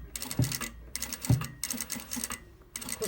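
Sewing machine stitching a panel of a flared A-line skirt with seams: three short bursts of rapid mechanical stitching separated by brief pauses, close and fairly quiet, with low thumps at the start of runs.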